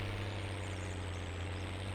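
Case tractor engine in the Farming Simulator 19 video game, a steady low droning hum with a strong deep tone, idling evenly and moderately loud with no talk over it.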